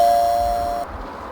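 A steady electronic doorbell tone in the video game Zak McKracken and the Alien Mindbenders rings loudly for under a second and cuts off abruptly, leaving low background rumble.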